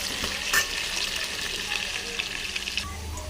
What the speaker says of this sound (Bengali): আলু ভাজা হয়ে গেছে, আলুকে বের করে নেব